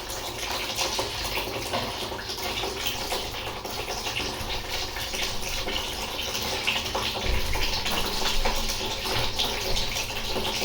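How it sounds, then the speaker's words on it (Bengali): Hot water gushes steadily from a tap for a dog's bath, a continuous close splashing rush with no pauses. "এই যে এটা গরম গরম মিক্স আছে জল"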